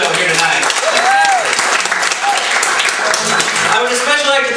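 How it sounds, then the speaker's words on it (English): Comedy club audience at the Ice House Annex in Pasadena claps loudly and continuously while voices carry over the applause near the mic. "I'd like to give yourselves a big round of applause for coming out to the show here tonight."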